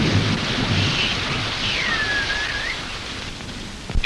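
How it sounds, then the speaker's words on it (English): Thunderstorm with heavy tropical rain, a steady wash of pouring rain under a low rumble of thunder, with a sharp crack near the end and no talking. "In the tropics, rain comes swiftly and heavily, and streams may flood in a flash."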